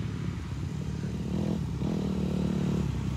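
A Honda motorcycle engine revs nearby, a throaty drone that rises in pitch and holds, with a brief dip partway through and some clatter underneath.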